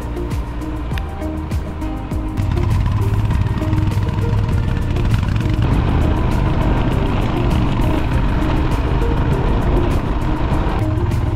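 A motorcycle rides a cold mountain road toward Sela Pass, with a steady, loud engine drone and wind rush that swells after a couple of seconds and holds constant throughout.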